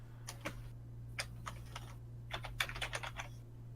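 Quick bursts of keystrokes on a computer keyboard, irregular clusters of close, crisp clicks with short pauses between, over a steady low hum and no talking.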